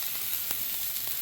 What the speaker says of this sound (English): So let's let that sear a little bit.